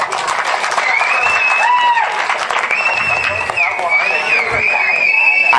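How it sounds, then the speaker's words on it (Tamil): An audience at a Tamil stage comedy drama claps loudly and steadily, mixed with crowd noise, while a voice and tonal music sound over the applause. "ஒரு கைதட்டு கொடுக்கலாம்"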